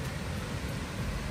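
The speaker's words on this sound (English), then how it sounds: "Water's rushing pretty hard." A hard-rushing waterfall on a Northwoods brook trout stream, swollen after days of rain, gives a steady, dense roar of broadband noise, close and constant, with no voices.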